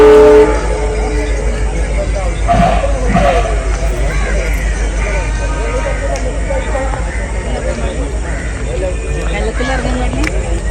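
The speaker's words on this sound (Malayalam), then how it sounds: "ട്രെയിനിൻ്റെ ശബ്ദമൊക്കെ കേൾക്കാൻ വേണ്ടി ഇരിക്കുമ്പോൾ" A train rumbles past on the tracks near the bank of the Bharathapuzha river, loud and close with steady wheel clatter and a horn, while people chat nearby throughout.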